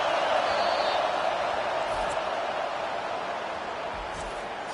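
A stadium crowd at a college football game between Tulane and Texas roars in a sustained, dense wash of cheering and noise that holds steady throughout, heard alone without nearby talk.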